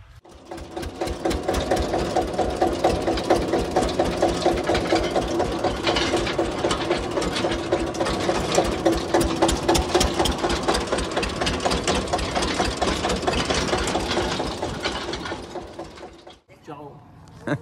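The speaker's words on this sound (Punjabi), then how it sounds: "ਆਪਣਾ ਆਹ ਟਰੈਕਟਰ ਹੋ ਗਿਆ ਜੌਨ ਡੀਅਰ ਵਿਹਲਾ" A new John Deere tractor idles on a farm, its engine giving a steady, loud, rhythmic mechanical chug that runs unbroken for about sixteen seconds before cutting off abruptly.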